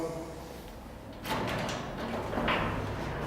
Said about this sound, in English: And now we'll have to open the garage door